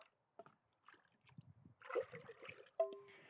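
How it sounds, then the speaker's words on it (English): Pottery glaze is poured into a ceramic pot, giving faint, brief liquid trickles and splashes close by, with a few small knocks, in an otherwise quiet room. "I'm just gonna pour in some glaze here"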